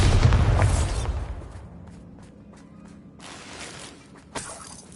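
A Bombarda blasting spell explodes in Hogwarts Legacy as one loud, booming burst that fades into a rumbling decay and leaves a few faint crackles and a small thump at the end.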